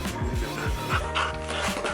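A dog makes short panting, whimpering and yipping sounds close by, with rubbing and shuffling noises around it in an indoor setting.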